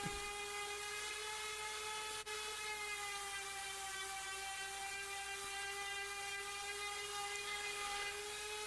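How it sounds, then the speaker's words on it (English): A steady, high-pitched electric whine runs without pause, a power sander working a wooden workbench surface, close and constant with a brief hitch partway through. "just sanding around the area a bit"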